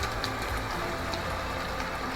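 Steady rain sound from a Bluetooth sleep-sound speaker meant for bedtime, a dense, even hiss of falling drops with no variation, playing alone without voices.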